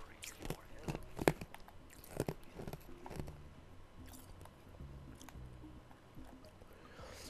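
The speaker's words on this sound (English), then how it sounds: "I apologize if you hear me crunching ice in the background" Someone crunches ice in their mouth with a few sharp, close bites and crackles scattered over a quiet background while gameplay of Jak and Daxter murmurs underneath.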